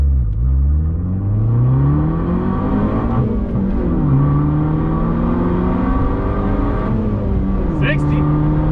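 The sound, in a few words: Fiat 500 Abarth turbo accelerating from takeoff in sport mode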